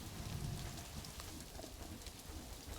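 Steady rain falls across a jungle zoo in the Planet Zoo management game, a dense continuous hiss with a low rumble like distant thunder, even in level throughout and with no voices.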